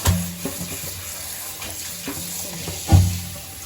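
Flour dough being washed by hand in a basin of water, with low sloshing and squelching pulses and a stronger splash near the end; no one talks.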